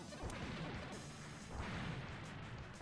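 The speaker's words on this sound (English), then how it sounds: "Fires lasers and bullets." A boss firing lasers and bullets in the Spider-Man and the X-Men arcade-style video game, a steady stream of buzzing, crackling shots and impacts, fairly quiet and continuous with no talking.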